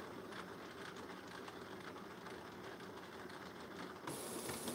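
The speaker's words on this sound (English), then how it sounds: "now we're just waiting for the printer to read the paper" A printer feeding and reading paper: a faint, steady mechanical whir and rhythmic ticking of rollers that runs for several seconds, then shifts to a brighter hiss near the end.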